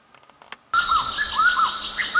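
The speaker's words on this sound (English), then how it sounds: "I'm away from the city in this amazing jungle of Arunachal Pradesh, and here I can listen to the bird sounds, and it's so pleasing." Birds sing in a jungle in Arunachal Pradesh, a few faint chirps first, then loud, repeated sweeping whistled calls over a steady insect-like buzz.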